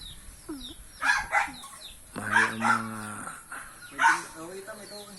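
Chickens at a Filipino backyard poultry pen cluck and squawk close by in several bursts, and one rooster crows midway. People talk over the birds.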